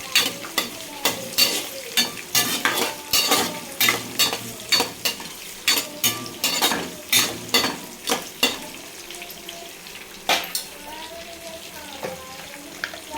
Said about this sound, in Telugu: ఒకసారి మళ్ళీ కలుపుకుందాం